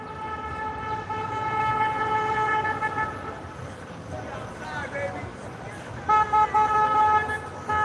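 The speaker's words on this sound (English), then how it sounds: "That's honking like that is frowned upon here in Hawaii." Car horns honk on a busy Waikiki street in Hawaii, with long sustained blasts that drop out briefly and then return in short repeated toots over steady traffic noise and background voices.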